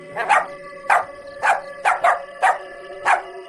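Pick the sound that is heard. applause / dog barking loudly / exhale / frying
dog barking loudly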